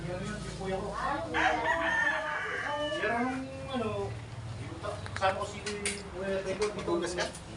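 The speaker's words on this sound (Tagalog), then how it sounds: "May mga manok." Roosters crow repeatedly with long rising calls, mixed with chicken clucks and people talking nearby at a busy outdoor town fiesta in Bagac, Bataan.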